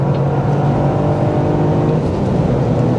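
A 2024 Toyota GR Yaris engine pulls hard under acceleration, a loud, dense, steady growl heard from inside the car with no talking.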